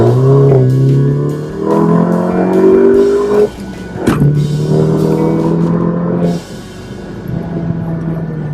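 A 2019 Volkswagen Jetta GLI 35th Anniversary Edition with an ECS valved exhaust accelerates close by in second gear from 2,000 RPM, its engine note climbing through the revs with a loud, raspy tone and a brief crackle midway.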